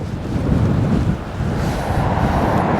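Steady wind roars and buffets against the microphone on a cold coastal walk near Porthkerry, Wales, a continuous loud rumble with no voices.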